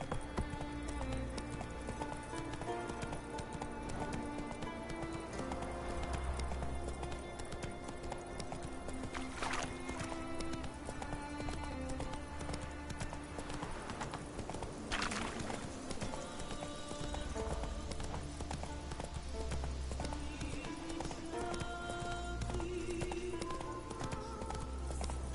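A horse gallops in The Witcher 3, its hooves clip-clopping in a steady fast rhythm with occasional whinnies over game ambience and music, continuous and fairly loud.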